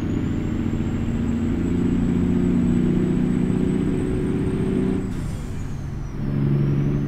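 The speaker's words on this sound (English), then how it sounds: "just let you listen to some truck in here at night. The window's rolled down." A heavy truck in American Truck Simulator cruises at night with the cab window rolled down, its engine droning loud and close with a high whine. An air-brake hiss comes near the end, then the engine drone picks back up.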